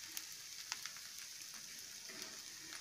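Oil sizzling in a pan while instant rava dosa made from semolina batter fries, a faint, steady hiss with a few soft ticks and pops, heard alone without talk.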